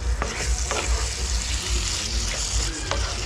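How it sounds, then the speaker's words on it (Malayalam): Beef in masala sizzles in a pan while being stirred, a close continuous frying hiss with a few scraping strokes of the spoon. "മസാലയൊക്കെ നന്നായിട്ട് ബീഫിൽ പുരളുന്ന രീതിയിൽ നമുക്കൊന്ന് മിക്സ് ആക്കാം"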